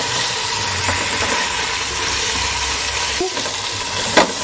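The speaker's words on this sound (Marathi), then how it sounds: "थोडंसं आले लसूण पेस्ट टाकून घेते भातासाठी। सगळं एकत्र हलवून घेऊया।" Onion with ginger-garlic paste sizzles and hisses steadily in a pan as it is stirred and fried. A couple of brief scraping clinks come near the end, and there is no talk.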